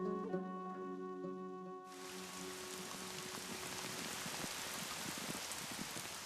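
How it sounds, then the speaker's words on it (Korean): Heavy rain pours down across Jeju Island, a dense, steady hiss of drops that starts abruptly and fills the scene at close range, loud and unbroken with no voices. "세차게 비가 내립니다"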